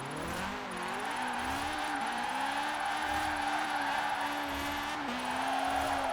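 A high-revving Honda engine swapped into a Mini in the racing game Forza Horizon 4 screams steadily at high rpm, its pitch dipping and rising slightly between shifts, with faint tire noise underneath.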